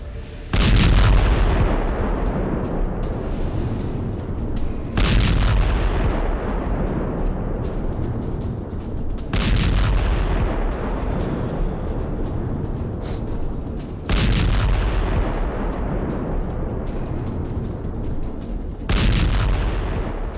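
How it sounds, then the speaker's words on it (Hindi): Heavy artillery explosions from Israeli bombardment in Gaza thud in a slow series of five loud booms, each spaced a few seconds apart and trailing off into a long, rumbling decay. "गाजा पट्टी में इजराइल की भीषण बमबारी देखने को मिल रही है।"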